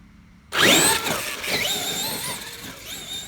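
A Traxxas X-Maxx 8s RC car launches off the line with a sudden loud electric motor whine and tire squeal that rises in pitch and holds strong for about three seconds, close to the listener and with no talk.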